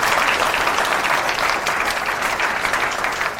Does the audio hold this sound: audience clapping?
yes